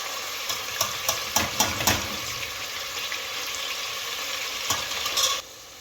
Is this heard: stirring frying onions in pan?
yes